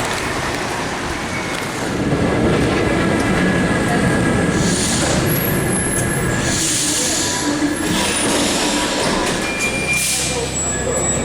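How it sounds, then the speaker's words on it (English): A Paris metro train on line 4 rumbles along the tracks loudly and continuously, with wheel noise, rattling and occasional high squeals as it runs. "This is line 4 of the metro."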